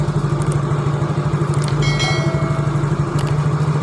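A motorcycle engine runs steadily under test, its battery draining and charging faulty, a close, even pulsing idle whose pitch barely rises when throttled and a few light mechanical ticks over it.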